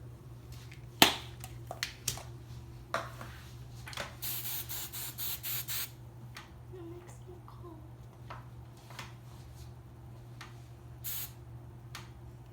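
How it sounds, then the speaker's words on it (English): Hairspray is misted onto a braid and bun in a rapid series of short hissing bursts, close and fairly loud, after a few scattered clicks and soft sounds. "Hairspray the braid. Around the bun."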